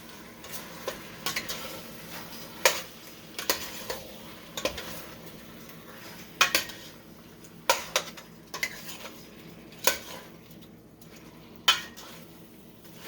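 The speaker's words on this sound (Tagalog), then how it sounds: "Tapos, ating haluin ulit." A spoon stirring pork with tomato and cabbage in a cooking pot, sharp irregular clinks and scrapes of metal against the pot over a quiet, low simmering sizzle, with no talk.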